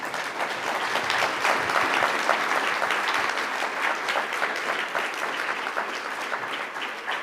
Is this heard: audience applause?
yes